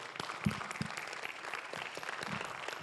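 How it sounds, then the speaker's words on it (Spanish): Quiet applause from a church congregation during a Spanish-language service, a patter of claps with a few louder individual hits and a faint voice underneath. "dale un aplauso fuerte al Señor"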